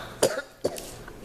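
Two short, sharp coughs about half a second apart, close by, with quiet room tone between them and no talking.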